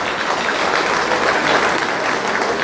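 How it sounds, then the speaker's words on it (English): A gala audience at the Jamaica 60 Diamond Jubilee claps in steady, dense applause at an even loudness for the whole moment. "Please give her a round of applause."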